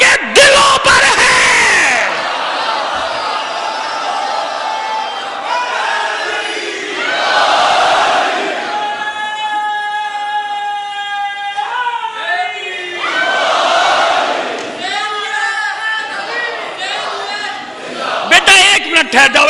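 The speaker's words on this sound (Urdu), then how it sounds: "ایسے پراگندہ منتشر نعرے مجھے نہیں پسند" A crowd at a Muharram religious gathering shouts scattered, overlapping slogans in loud waves, broken by stretches where a preacher speaks with a sustained, sung tone.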